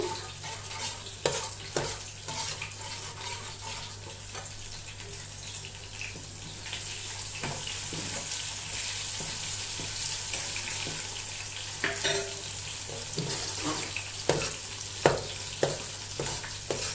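Egg being scrambled and fried on a medium flame gives a continuous close sizzle, with intermittent spatula taps and scraping against the pan throughout.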